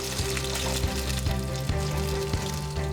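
A piece of salted mackerel sizzles on a grill, a steady close crackle and hiss with small spitting pops running throughout without talk.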